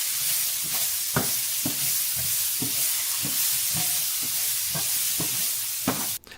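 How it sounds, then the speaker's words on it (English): Chopped vegetables frying in a pan on a wild-camp stove for a dehydrated jambalaya, a steady close sizzle under repeated stirring scrapes, with a brief clatter at the end. "every little vegetable that you've been chopping up, get it in the frying pan and give it a good fry up"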